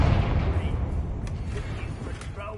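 A Confringo blast curse bursts in Hogwarts Legacy, a loud rumbling explosive roar with a heavy low-end boom and crackling decay, sustained over a couple of seconds with faint sharp bits near the end.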